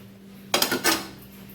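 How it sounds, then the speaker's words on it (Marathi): Raw banana being mashed in a pot with a utensil, a short cluster of clattering, scraping knocks that starts abruptly, close and fairly loud, over a low steady hum. "आणि याला व्यवस्थित स्मॅश करूया"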